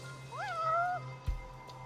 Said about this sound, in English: It's a kitty.